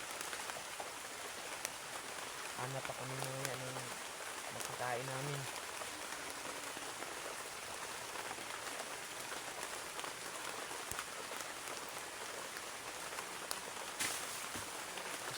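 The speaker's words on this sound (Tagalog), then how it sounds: "Lakas na yung ulan mga tol ba." Heavy rain falling steadily as a dense, even hiss throughout, with someone speaking briefly early on and scattered louder drops and taps over the constant downpour.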